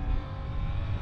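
A Suzuki GSX-8S motorcycle engine runs at a steady low rumble, close and continuous, with no voices over it.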